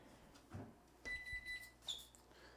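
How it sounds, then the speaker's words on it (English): A kitchen oven timer goes off with a few short electronic beeps, fairly faint and separated by quiet, amid light handling noise in a home kitchen while cupcakes bake. "their oven timer is going off"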